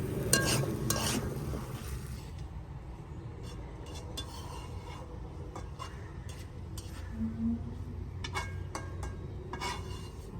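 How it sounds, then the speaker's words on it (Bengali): Fish and new potatoes are stirred into turmeric and chili spices in a pan, giving a soft continuous sizzle with scraping strokes and light clicks of a utensil against the pan, close and steady. "তো এখন আমি মাছ আলুটা মশলার সাথে মিশিয়ে দেবো হলুদ মরিচের সাথে।"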